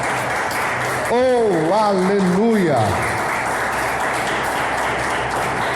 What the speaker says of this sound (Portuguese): Vamos aplaudir o Senhor Jesus bem forte.